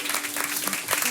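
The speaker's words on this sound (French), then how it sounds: "Oui, on peut les applaudir." Brief burst of audience applause for volunteers at a community event, dense clapping filling the whole moment with a faint voice underneath.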